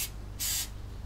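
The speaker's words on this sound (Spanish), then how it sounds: "El mayor problema de estos moldes con tanto dibujo es el desmolde, así que utilizaré spray desmoldante." Release spray hissing from an aerosol can into a bundt cake pan before chocolate batter goes in: a short puff, a brief pause, then a longer steady burst, close and fairly loud.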